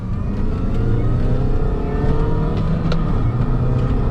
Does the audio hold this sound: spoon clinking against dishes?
no